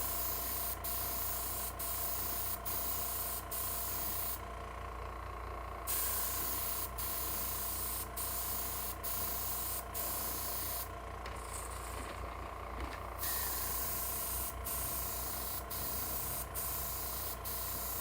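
Model railroad parts get spray painted in a workshop, a continuous close hiss of an aerosol with repeated short clicks and brief pauses as the spray starts and stops, with no talking.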